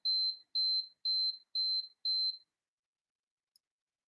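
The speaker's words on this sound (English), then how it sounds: "And that is my timer." A timer alarm beeps five times in an even, rapid sequence of high-pitched electronic tones, then cuts off, leaving near silence apart from one tiny click a second later.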